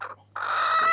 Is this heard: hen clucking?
yes